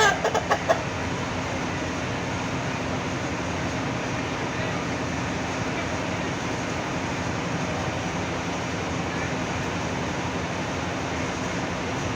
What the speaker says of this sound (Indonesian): Ayam yang ketiga ini.